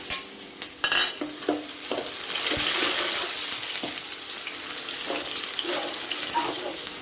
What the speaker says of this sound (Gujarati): સુધારેલી કાંદો નાખીશું